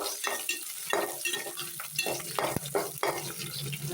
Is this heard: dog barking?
no